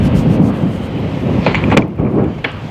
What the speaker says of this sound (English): But now it's a windy day today.